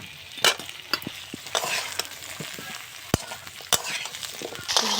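Potatoes and eggplant fry in a pan with onions and green chilies, giving a soft steady sizzle broken by sharp clatters and scrapes of stirring, up close.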